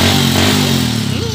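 Motorcycle fitted with a sidecar and a freshly rebored engine, idling close by with a smooth, steady loud drone and a brief rise in pitch near the end.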